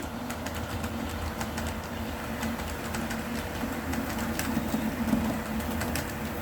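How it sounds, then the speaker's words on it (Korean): A Korean Mugunghwa passenger train rumbles steadily past at a distance, a continuous low rolling drone with faint rhythmic clatter, while birds coo nearby. "무궁화호 열차가 지나가죠."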